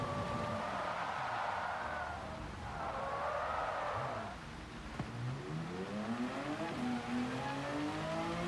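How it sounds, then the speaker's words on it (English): Tires screech and squeal in long pitched sweeps beneath a revving race car engine in a Gran Turismo race on the Nürburgring Nordschleife, rising and bending as the car slides through corners. "You can hear the tires screeching for grip."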